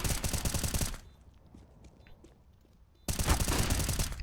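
Loud sprays of automatic rifle fire in a competitive CS:GO match at the B bomb site, one dense burst cut off after a second, a quiet stretch with faint footsteps and clicks, then another heavy burst of overlapping gunfire.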